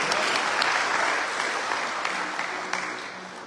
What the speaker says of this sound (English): Give them a lovely round of applause.